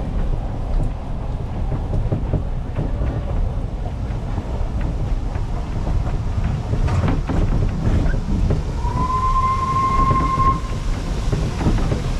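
A narrow gauge Ffestiniog Railway train rumbles along steadily on a rainy day, wheels clattering on the rails with wind buffeting the microphone, and a short whistle-like tone toward the end.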